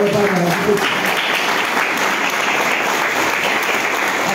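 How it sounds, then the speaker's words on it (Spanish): Steady, loud clapping from a church congregation applauding Jesus Christ, dense and continuous throughout, with a brief voice at the very start. "Dale palmas a Jesucristo."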